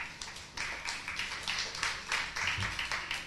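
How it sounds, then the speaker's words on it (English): An audience at a live magic show in 1995 applauds a volunteer, a modest crowd clapping briskly and steadily for a few seconds, with no speech over it. "Big round of applause for Ben."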